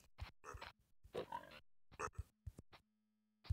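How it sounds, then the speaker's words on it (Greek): A pig in a Minecraft-style video game makes short grunts and oinks in a series of separate bursts with gaps between them, fairly faint. "γεια σου γουρούνι"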